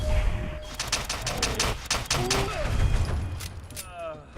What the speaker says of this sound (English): He's just standing like 10 feet away from me, totally friendly. And then just shoots me out of nowhere.